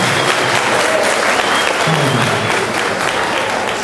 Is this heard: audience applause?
yes